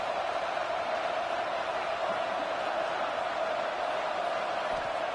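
Roaring stadium crowd at a college football game in College Football 26, Navy visiting West Virginia, a dense, steady wall of cheering noise held at even loudness throughout.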